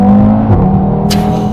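An Audi TT RS with the DAZA five-cylinder engine pulls hard with its turbo spooling up, a loud, close, steady engine drone that holds firm under load for the whole stretch without a voice over it.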